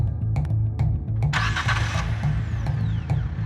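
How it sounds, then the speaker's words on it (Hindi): A car engine cranks and starts, a burst of broadband roar joining a steady low rumble, then settling into an even idle; heard alone with no talking. "मैं तुम्हें गाड़ी की आवाज सुनाती हूँ।"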